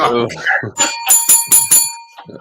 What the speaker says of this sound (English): Give yourself a bell ring, King Raphie.